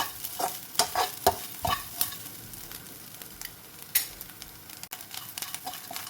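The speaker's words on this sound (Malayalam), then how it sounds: "തേങ്ങ ചെറുതായിട്ടൊന്ന് മൂത്ത് വരുമ്പോൾ നമുക്ക് മഞ്ഞൾപ്പൊടി, മുളക് പൊടിയൊക്കെ ഇതിലേക്ക് ആഡ് ചെയ്യാം" Grated coconut frying in a pan for a fish curry, a steady sizzle broken by repeated sharp scrapes and clacks of the spoon stirring it, close and alone.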